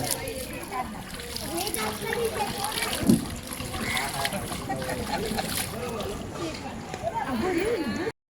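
Steady water splashing and pouring fills the whole stretch, with a voice chattering close by over the wet, noisy wash.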